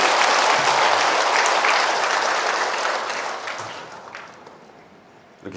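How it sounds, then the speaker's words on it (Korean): A lecture audience breaks into loud, dense applause that holds steady for several seconds, then gradually tapers off and fades to quiet. "박수 주세요."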